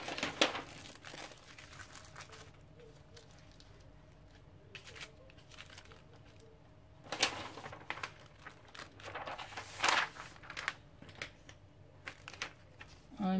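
Sheets of copying paper for tracing a flamenco dress design are crinkled and shifted by hand in quiet, intermittent rustles and brief sharper crackles, close up, with faint indoor background.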